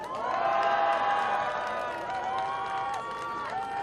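A crowd at a Seoul election campaign rally roars together, a loud unified cheer with whoops and shouts that swells quickly and holds for a few seconds.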